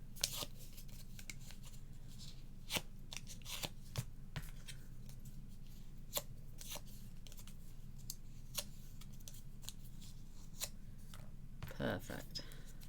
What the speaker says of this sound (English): I'm gonna just use my bone folder just to give it a little